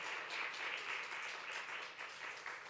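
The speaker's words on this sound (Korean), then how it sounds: "박수로 축복하겠습니다." A church congregation at a Sunday service claps in blessing, a faint, distant and steady patter of many hands lasting a few seconds.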